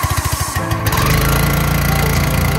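1st Gen 12V diesel truck engine starting, with a few rhythmic cranking pulses followed by the engine catching into a loud, continuous clattering diesel idle close by.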